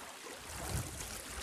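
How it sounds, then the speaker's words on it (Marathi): Steady rushing of water pouring down into a pond at Gokundi, a broad continuous wash of moderate loudness with no voices. "ते पाणी वरून येत आहे"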